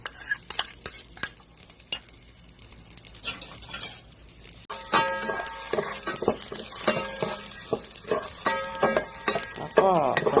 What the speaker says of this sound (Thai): ผัดสามเกลือให้หอมนะคะเนาะ